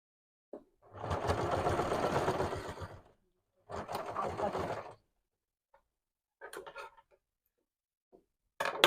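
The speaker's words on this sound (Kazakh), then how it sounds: "Мінекей дәл осылай екінші жағында тігіп шығатын боламыз" Sewing machine stitching along the second side of a small fabric pouch, two sustained bursts of rapid mechanical whirring followed by a few short stitch runs, close and clear with silent gaps between.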